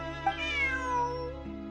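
A cat in the video game Genshin Impact gives a single drawn-out meow, with a rising then falling tone, set against a sustained musical background drone.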